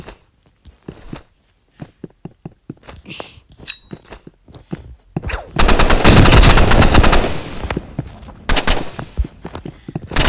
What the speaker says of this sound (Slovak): Čak, ja som si nabíjal, on po mne strieľa.